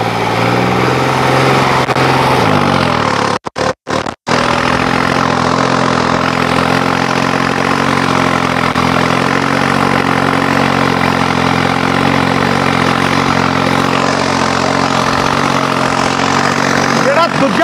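A New Holland 5620 tractor's diesel engine idling, a loud, steady close rumble that drops out briefly near the start, with someone talking over it.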